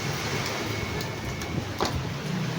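Heavy rain pours steadily as a dense, even hiss close by, with a few faint knocks and taps mixed in.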